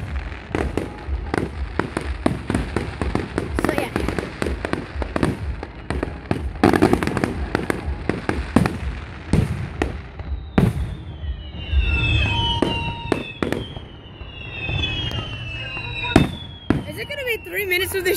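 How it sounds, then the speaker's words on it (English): Fireworks go off without pause, an unbroken string of sharp cracks and booms, some close and loud, some farther off, with whistling rockets late in the sequence and people talking throughout. "How is it copyright if it's fucking fireworks?"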